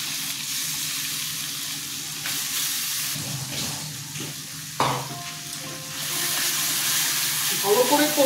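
Spiced yogurt with chilli, bay leaf, cumin and garam masala hitting a hot pan for a bhindi dish, giving a steady close sizzle with a sharp burst midway and light stirring and clinking toward the end.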